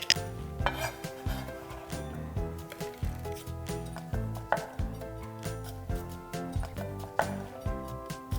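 Red chili and hot cheongyang peppers being sliced with a knife on a cutting board, a steady run of close, repeated chopping taps with no talking.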